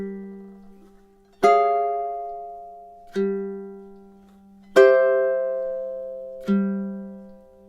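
Ukulele playing the first three measures of a TV theme, four slow plucked chords ringing out one after another with clear attacks and long sustain, alone with no voices.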